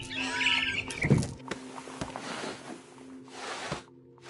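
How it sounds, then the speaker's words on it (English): Bright barn swallow chirps sound briefly at the start over a soft video game background hum from What Remains of Edith Finch, followed by light clicks and rustling. "Then I heard chirping outside my window. It was a barn swallow going back to her nest."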